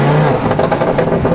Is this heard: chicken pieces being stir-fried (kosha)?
no